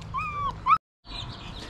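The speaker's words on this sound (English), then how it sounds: "Can we feed the puppies first?" On a homestead, puppies waiting to be fed give two thin, high whimpering whines, close and fairly soft, followed by a brief gap and some low background noise.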